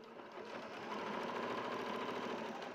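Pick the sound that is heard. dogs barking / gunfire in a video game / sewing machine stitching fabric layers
sewing machine stitching fabric layers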